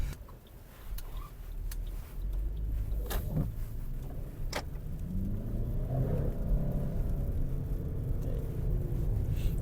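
A 2017 Toyota RAV4 Hybrid drives along a rough, icy road, its engine rumbling steadily under cabin noise, with occasional knocks and thumps from the surface.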